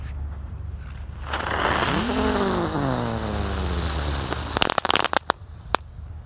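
A green Terate Pretek firecracker fizzes with a rising, warbling whistle for several seconds, then bursts into a rapid series of sharp cracks and pops, fairly near and loud.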